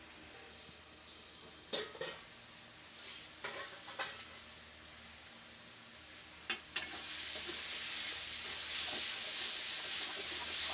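Taro leaves (kochu shaak) frying in a pan with a steady sizzle, broken by several scrapes and clacks of a spoon stirring them, the hiss growing a little louder toward the end.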